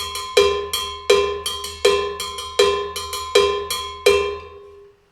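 A single cowbell, one of several differently sized ones, is struck in a steady rhythm, about ten loud, ringing metallic clanks that each decay quickly, played alone.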